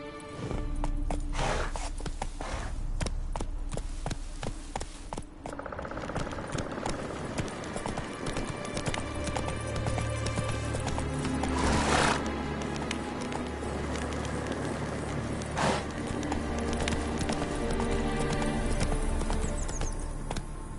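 Horse hooves clip-clop in The Witcher video game, a fast rhythmic galloping patter that stays close and loud throughout, with occasional whinnies and game ambience behind it.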